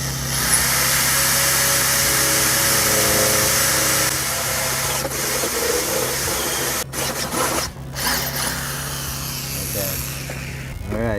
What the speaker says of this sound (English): go ahead and go with this one and drill a hole right here where we made our mark